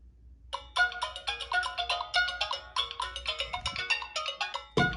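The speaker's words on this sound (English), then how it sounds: "Hopefully, I think a ringtone will work." A Kyocera mobile phone plays its melodic ringtone, a quick run of bright, chiming electronic notes repeating in a bouncy rhythm, clear and close in a quiet room.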